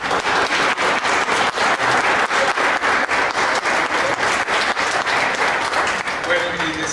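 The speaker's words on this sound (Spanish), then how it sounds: "yo sí pido un aplauso para mis compañeros" Sustained applause from a crowd at a political assembly, a plenary meeting of grassroots committees, with dense continuous clapping filling the whole stretch at steady loudness.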